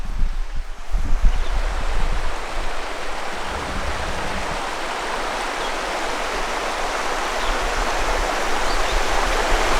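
A brownish river rushing past a bushland campsite, a loud, steady broadband roar of flowing water that fills the scene, with a few low thumps and some wind buffeting at the start.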